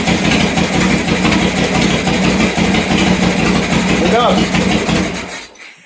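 A Harley-Davidson Sportster motorcycle engine idles steadily and loudly up close, with a busy mechanical chatter running throughout before it cuts off near the end.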